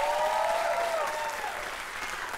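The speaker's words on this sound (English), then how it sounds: "Give him a round of applause." A trivia contest audience applauds a contestant with a sustained, even wash of clapping, and a faint tone gliding through the first second.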